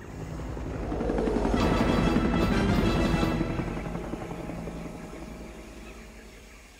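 A helicopter in the video game Predator: Hunting Grounds roars with a rotor and engine drone that swells to a loud peak, then fades steadily away.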